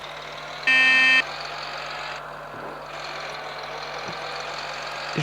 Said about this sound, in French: J'espère que vous entendez bien le son du camion